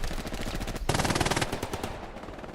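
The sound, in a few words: MG42 machine gun firing in video game Hell Let Loose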